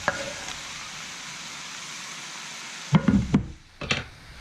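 Chunks of goat meat for kaldereta start lightly browning in a pan, a steady quiet sizzle followed near the end by a few louder knocks and scrapes of stirring.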